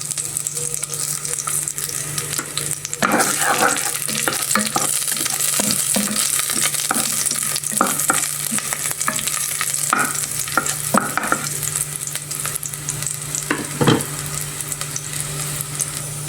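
Garlic fries in a pan with a steady sizzling hiss, while a utensil scrapes and taps against the pan in irregular bursts as it is stirred, close by with no voices.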